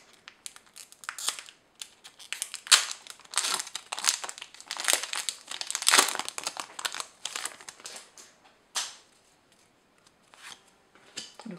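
A Pokémon booster pack's foil wrapper crinkles and tears in close, loud, irregular bursts as it is worked open, with brief pauses between crackles.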